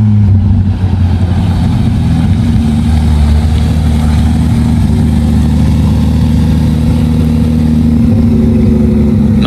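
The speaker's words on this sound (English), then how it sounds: "This is an ultimate race car right here." A race car engine at a Cars and Coffee show rumbles loud and close, a steady heavy low drone with revving pulses that carries without break through the whole stretch.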